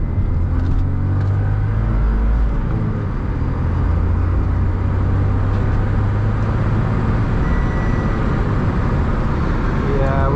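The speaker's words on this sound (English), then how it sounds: "That makes way too much noise with the sunroof creased open." Steady low roaring rumble of wind buffeting through the partly open sunroof of a 2010 Audi S5 while driving, continuous and loud, with road noise underneath and faint speech mixed in.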